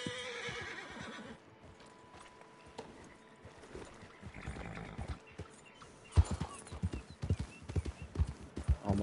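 Horse in Red Dead Redemption 2 whinnying at the start, then hooves clip-clopping in an uneven rhythm that grows louder and sharper toward the end, with no talk.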